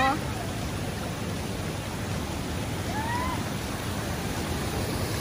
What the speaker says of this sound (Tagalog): So, may waterfalls din siya dito.